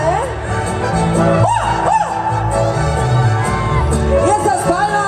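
At a jaripeo at the Huajuapan seminary fair, a crowd whoops, whistles and cheers with scattered clapping. The din is dense and continuous, and a loud voice carries over it.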